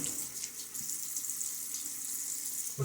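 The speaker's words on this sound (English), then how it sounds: "A little splash of water." A brief run of water from a tap during a wet shave, a steady close hiss of flowing water lasting a few seconds.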